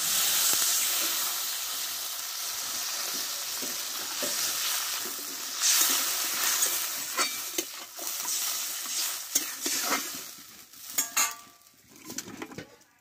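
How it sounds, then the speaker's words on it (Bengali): Water poured into a frying mustard spice paste sets off a loud, hissing sizzle that fades unevenly, broken by clinks and scrapes of a spoon stirring in the pan. "এবার জলটা দিয়ে দেবো আমি।"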